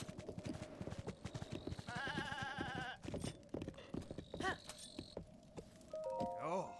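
A goat in the Breath of the Wild video game runs around a campfire, its hooves clopping quickly while short bleats rise and fall, all under a person talking and busy game sounds.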